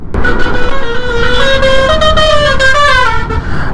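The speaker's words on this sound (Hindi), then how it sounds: "सुन पा रहे हो हॉर्न भैया जी? ये बस का जो हॉर्न है ना" A loud, sustained musical bus horn blares with a wavering, shifting pitch over steady road and engine noise, close by, heard from a Suzuki Burgman Street scooter.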